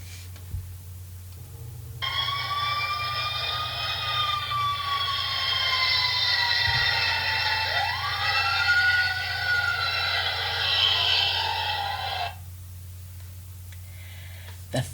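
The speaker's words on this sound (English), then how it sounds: "The first siren." A wailing siren rises and falls for about ten seconds over a low steady hum, starting and stopping abruptly, fairly loud and close.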